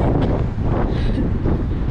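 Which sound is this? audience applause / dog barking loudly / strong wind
strong wind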